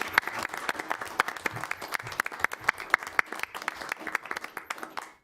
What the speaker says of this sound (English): Let's give our teachers and staff a round of applause.